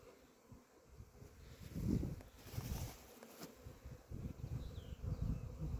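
Agitated honey bees buzz around their hive in early spring, a soft, wavering drone that swells and fades as individual bees pass near, fairly faint overall.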